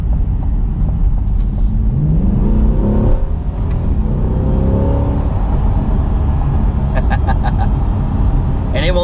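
A twin-turbo 2020 Ford Mustang pulls hard at quarter throttle near 70 mph, its engine note rising and dropping through automatic gear changes, with occupants talking over the loud cabin rumble.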